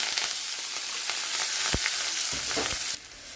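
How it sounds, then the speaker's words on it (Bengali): Loud, steady sizzling of onion and chilli frying in hot oil with nigella seeds, with occasional sharp pops and stirring scrapes; the sizzle softens near the end. "দিয়ে দিচ্ছি কেটে রাখা পেঁয়াজ লঙ্কা।"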